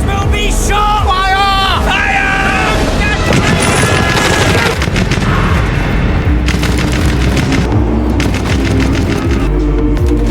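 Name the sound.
gunfire of soldiers being shot in a war film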